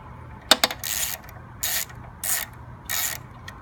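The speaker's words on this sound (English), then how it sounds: "you tighten these first 2 bolts down evenly" A ratchet tightens the carburetor bolts on a lawn mower. A couple of sharp metallic clicks come first, then four short bursts of ratcheting, each about a third of a second long, close and clear with no talking.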